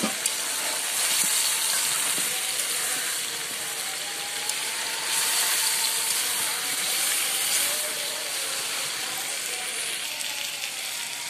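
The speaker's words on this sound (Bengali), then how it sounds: "আর মাংসগুলোর সাথে আলুগুলো ভাজা হবে।" Potatoes frying with chicken in a pan, lightly salted, with the gravy reducing as the oil rises: a steady, dense sizzle and hiss that holds evenly, with no voices.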